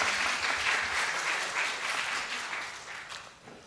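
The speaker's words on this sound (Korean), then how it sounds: "우리 모두 한번 서로 박수 한번 쳐주십시다" A church congregation at a Korean Sunday service applauds together, a dense, even wash of many hands clapping, close and sustained before tapering off slightly at the end.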